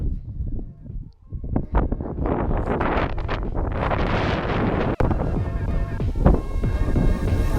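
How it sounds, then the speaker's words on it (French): Strong gusts of wind buffet the microphone, roaring and rumbling continuously with rustling, nearby and loud. "j'espère qu'en haut il n'y aura pas autant de vent qu'ici"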